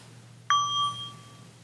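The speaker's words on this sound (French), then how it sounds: "Je viens coller le bâton, l'inviteur," One gentle strike of a wooden inviter stick on a Buddhist bell sounds a single quiet ding, its pure metallic tone ringing on and decaying over about a second.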